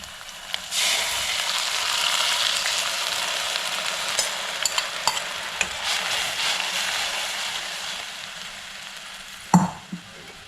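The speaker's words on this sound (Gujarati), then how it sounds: "ડુંગળીને થોડી ફ્રાય થવા દઈએ, બહુ વધારે નહીં." Chopped onion sizzling steadily in a hot pan of oil while a vegetable roti shaak is cooked, with a continuous close frying hiss for about ten seconds and a brief utensil clatter near the end.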